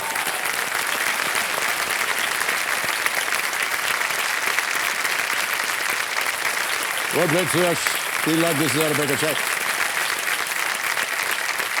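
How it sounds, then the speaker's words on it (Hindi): A studio audience at a TV quiz show claps steadily and loudly for a contestant who has just won a cheque, with the host speaking over the applause. "तालियां बज जाए इनके लिए।"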